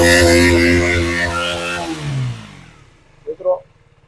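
A motorcycle engine is revved hard near the mic, its roar falling steadily in pitch and fading out over about two seconds, followed by quiet idle and a couple of short blips.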